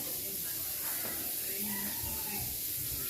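Asparagus sizzling in butter in a big skillet, a soft, steady hiss of frying throughout, with a faint voice underneath.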